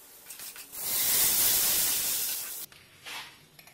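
Liquid is poured into a hot pan of Palakkad tamarind curry and erupts into a loud, bright sizzling hiss for about two seconds. It then drops to a softer bubbling crackle.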